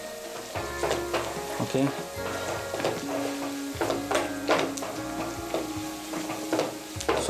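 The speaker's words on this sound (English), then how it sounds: "mix them properly so that everything should become oily" Ivy gourd pieces sizzle loudly in hot oil in a pan while a spatula scrapes and tosses them in repeated strokes; a brief spoken word comes in under the frying.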